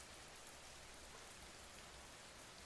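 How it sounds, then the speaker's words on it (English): Gentle rain patters steadily on a tent at a mountain campsite, a soft, even, constant hiss with no breaks, faint and alone without any voices. "But mostly there was the rain, that soft, constant rhythm"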